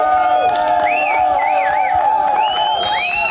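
A crowd at an album launch cheers for the singer, with high whoops and whistles rising over a continuous roar of voices and scattered clapping.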